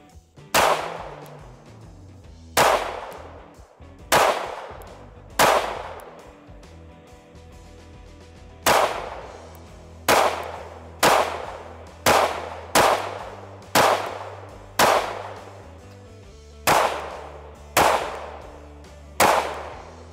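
Dry trigger pulls on Shadow Systems CR920P and Springfield Hellcat RDP striker-fired micro-compact pistols: about fifteen sharp, close metallic clicks, irregularly spaced one or two seconds apart, with no talking.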